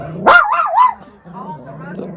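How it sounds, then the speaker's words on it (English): A pet dog barks and yips at sled dogs shown on a TV at home, a couple of loud rising barks up close, followed by a person talking to it. "guy decides he's going to bark at the sled dogs in the video"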